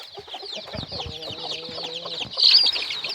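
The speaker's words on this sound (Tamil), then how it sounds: "இதில் பார்த்தீங்கன்னா 7 நாள் குஞ்சு ஒரு 30 கிட்டத்தட்ட இருக்குது" Seven-day-old country chicks in a cage peep in rapid, high overlapping chirps, with a few lower fowl clucks close by; a brief louder burst of chirping comes near the end.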